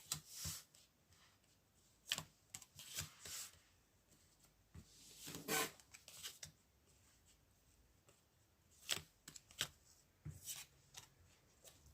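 Small tarot oracle cards shuffled by hand in quick, riffling bursts separated by short quiet gaps, close and fairly faint.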